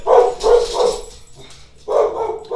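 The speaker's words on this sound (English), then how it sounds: "Our dogs had to chime in." Pet dogs bark loudly and close by in a home, several quick barks in bursts, then a pause and another burst.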